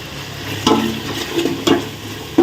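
Green chili and ginger paste with onion sautéed in a pan for vegetable biryani: a soft low sizzle under scattered spoon scrapes and stirring clinks, near and moderately loud, with no talk.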